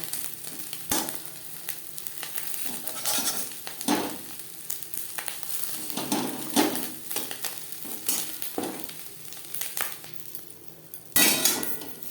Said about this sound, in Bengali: মাছের ডিম ভাজা হয়ে গেছে।